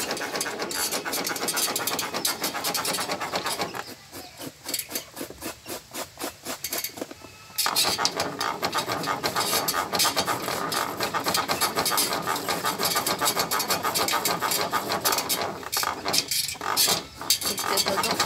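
A wheel-driven coconut grater turned by hand, scraping coconut in a fast steady rasping rhythm, close and continuous, with a brief pause midway before the grinding resumes.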